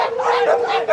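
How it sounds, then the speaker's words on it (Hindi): Dogs fighting at a crowded dog market at the Sonpur fair in Bihar, with dense overlapping snarls, yelps and growling barks running continuously at close range. "देखिए इधर में कुत्ता लड़ाई कर रहा है"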